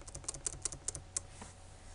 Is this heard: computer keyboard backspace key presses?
yes